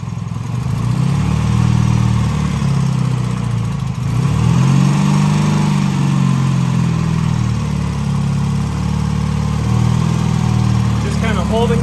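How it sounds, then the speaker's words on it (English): A BMW airhead motorcycle engine with Bing carburetors, held just above idle during a carb sync, chugs steadily up close with a brief dip near the middle, while a person talks over it. "Just kind of holding the engine off idle."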